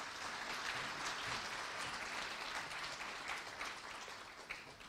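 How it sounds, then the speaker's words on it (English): A large audience at an Indian community gathering in Moscow claps for an artist after a performance, dense, sustained applause filling the room at an even level throughout. "Can we have a huge round of applause for the artist, please?"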